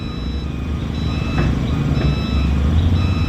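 A truck at a road construction site in Lupi, Camarines Sur gives a steady, repeating reversing beep over a loud, constant diesel engine rumble.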